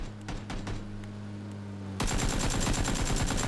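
Video game gunfire: a few scattered shots give way to loud, continuous rapid-fire bursts that fill the second half, with no speech.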